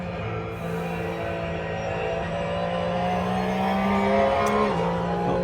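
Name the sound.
car accelerating around a corner at a show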